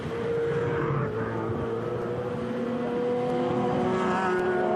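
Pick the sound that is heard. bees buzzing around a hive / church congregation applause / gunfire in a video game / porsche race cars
porsche race cars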